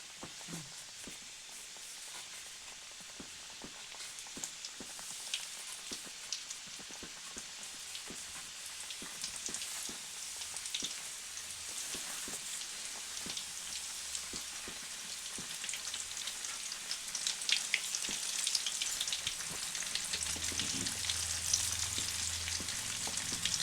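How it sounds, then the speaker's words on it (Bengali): Chicken popcorn pieces deep-fry in hot oil over medium heat, giving a steady, crackling sizzle with scattered pops that swells slightly louder toward the end, no voices. "এই যে গরম তেলের মধ্যে ছেড়ে দিচ্ছি। তেলের আঁচটি মিডিয়াম রাখতে হবে এখানে"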